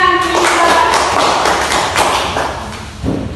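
A primary school class claps together in a classroom during a lesson, a loud burst of many hands tapping and thudding that fades out after a few seconds, with some voices mixed in.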